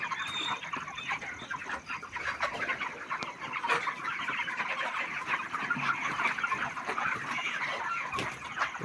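A flock of broiler chickens weighing around 2.5 to 3 kg clucks inside a broiler shed, a dense, continuous chorus of overlapping calls from many birds close by.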